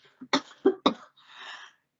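A few sharp coughs close to the mic, followed by a soft breathy throat-clearing sound; no talking.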